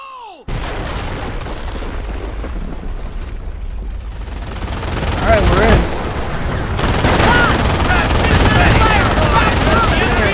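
Heavy gunfire and artillery in the WWII strategy game Company of Heroes, a dense, continuous barrage of shots and booms that swells louder partway through, with voices shouting over the din.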